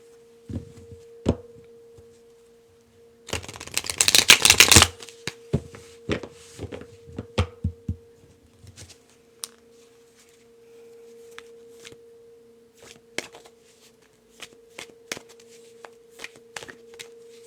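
Tarot cards being shuffled: a dense burst of riffling near the start, then scattered soft taps and flicks as cards are handled over a faint steady hum, close and quiet with no talk.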